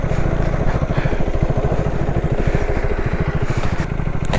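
A vehicle engine idles on a rural road beside farmland, its close, steady chugging pulse running loud and unbroken throughout.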